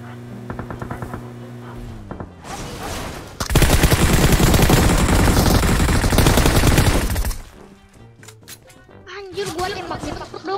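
Rapid bursts of gunfire in the PUBG Mobile battle royale game, a dense sustained volley dominating the middle of the clip with scattered shots before and after, while players chatter over it.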